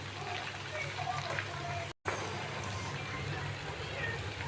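Ghee heats in a pan with a betel leaf and bubbles with a steady, close, low sizzling hiss. The hiss runs continuously apart from one brief gap.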